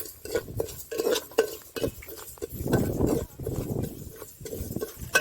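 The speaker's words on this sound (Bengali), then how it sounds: "প্রথমে আমি মুগ ডালটা ভেজে নিচ্ছি" Dry moong dal stirred and scraped in a pan over heat, a spoon knocking and scratching against the metal in an irregular rhythm of close, moderately loud clacks and rustles, with no talk over it.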